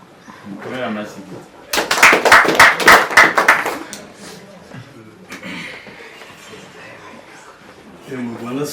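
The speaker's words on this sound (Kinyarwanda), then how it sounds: "komera amashyi" A gathered crowd claps in a short, loud burst of about two seconds, crisp rhythmic hand strikes rising out of quieter surroundings, with people talking before and after.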